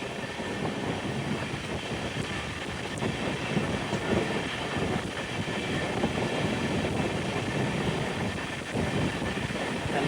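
A train on the Jhansi to Bhopal route heard from inside a coach, a steady rolling rumble with faint rhythmic wheel clatter and rushing air, continuous and moderately loud with no voices.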